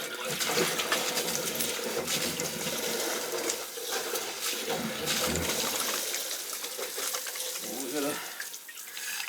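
Water rushes and gushes continuously into a well tank, filling with a churning, splashing sound, while a person talks faintly in the background.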